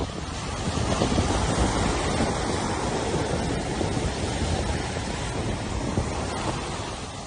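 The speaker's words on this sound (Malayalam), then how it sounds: "ഗുജറാത്തിലെ തീരമേഖലകളിലും സൗരാഷ്ട്ര കച്ച് മേഖലകളിലും അതിശക്തമായ കാറ്റും മഴയും തുടരുകയാണ്." Cyclone Biparjoy batters the Gujarat coast with a constant, heavy roar of strong wind and rain, a dense, unbroken wash of noise buffeting the microphone throughout, with no voices.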